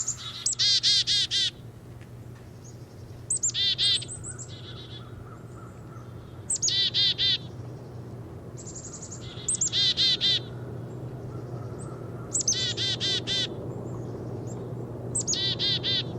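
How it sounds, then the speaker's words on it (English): A chickadee gives repeated bursts of high, clear notes mixed with rapid garbled calls, several phrases spaced a few seconds apart over a low steady background hum. "then gives an outburst of high notes and garbled calls"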